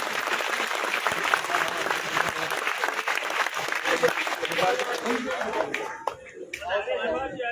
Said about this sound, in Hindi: मेहमानों के लिए जोरदार तालियां बजा दीजिए